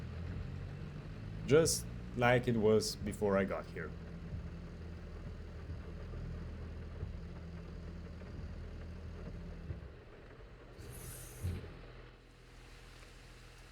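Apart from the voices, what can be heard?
tractor engine being driven, from video game Farming Simulator 22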